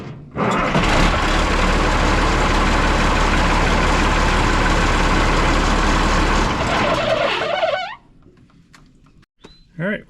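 An old bulldozer's engine with leaky hydraulics runs loud and close for several seconds, a heavy diesel rumble that suddenly cuts off, leaving quiet background with a brief bump at the end.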